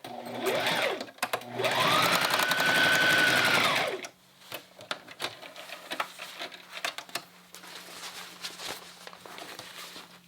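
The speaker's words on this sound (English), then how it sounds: "I sew another line over here. It's just like a basting line to keep it together." A domestic sewing machine stitches a basting line on fabric, a fast rattling run that rises and slows over about four seconds, followed by quieter handling, tapping and shuffling.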